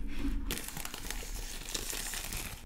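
Packaging for gaming earbuds crinkles and rustles close up as the box is handled and opened, a dense run of crackling plastic and paper after a brief pause.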